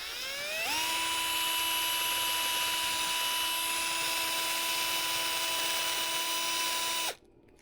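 A power drill bit spinning into plastic while fitting fog lights on a Honda Element SC, a loud steady high-pitched whine that revs up quickly, holds for about six seconds, then cuts off abruptly.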